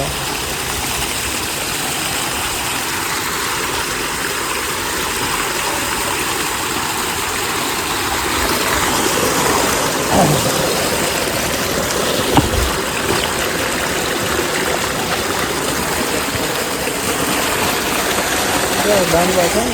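Steady rushing of flowing water runs throughout, with a low engine-like drone mixed in and a few faint knocks near the middle.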